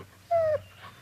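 A dog gives a single brief, high whimper at close range in a quiet room, then falls silent.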